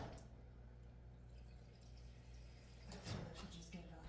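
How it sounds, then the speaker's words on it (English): Water runs from a kitchen tap into a pan at the sink, a faint steady trickle and splash that briefly grows louder near the end. "fill up my water"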